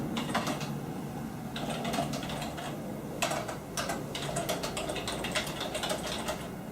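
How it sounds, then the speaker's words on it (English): Steady typing on a computer keyboard, close and clear, with clustered bursts of key clicks separated by brief pauses and no talking. "I'm just typing in the question"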